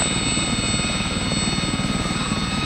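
A helicopter taxiing at Kemble Cotswold Airport gives a steady, loud rotor thump with a continuous engine whine, close by and unbroken, with no talk over it.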